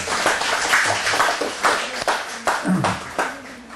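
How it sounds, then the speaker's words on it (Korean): A small class at a lecture on Hebraism claps at the end of a fifteen-week course, giving a loose scattering of distinct, close hand claps in an irregular rhythm over a few seconds, with faint voices in between. "우리 서로 위해서 좀 위로와 격려의 박수를 좀 해주시기 바랍니다."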